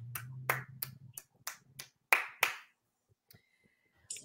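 Hands clap about eight times in a quick, slightly uneven run, sharp and close, imitating applause, then stop and leave near silence with a faint tone.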